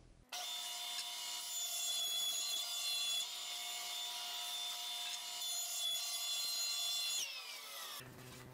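A hand plane makes a long, steady rasping pass along the edge of a rough-sawn pallet wood board for a door, a close, continuous scraping that stops abruptly near the end, with no talking.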